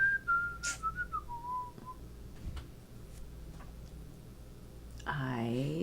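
A person whistles a wavering melody of a song, fairly close and clear for about two seconds, then falls silent amid quiet room noise before a voice speaks near the end.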